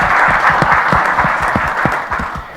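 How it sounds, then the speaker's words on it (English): Warm, close applause for Stephen Noble at a business events breakfast discussion, a loud burst of clapping with distinct individual claps that tapers slightly toward the end. "Stephen Noble, round of applause please."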